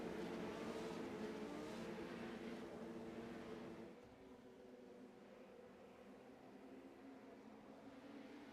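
Race cars in the iRacing video game drive at Mugello Short, a steady engine drone that drops slightly in level partway through and holds on, with no talk.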